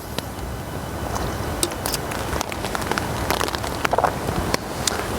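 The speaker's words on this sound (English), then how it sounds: "A bit more rain coming down." Steady rain falls at a stealthy woodland camp on a gusty winter night, with a dense patter of drops and scattered sharper taps on nearby surfaces and no voices.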